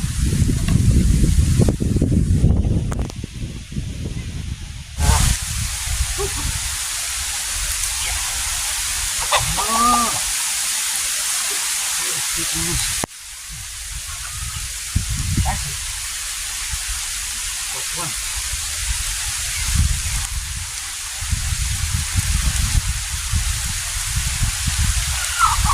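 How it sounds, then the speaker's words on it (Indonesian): Heavy rain falls in a dense, continuous hiss over a long stretch, loud and steady with some bumps and handling noises, and a few brief voices underneath. "Hujan. Itu hujan."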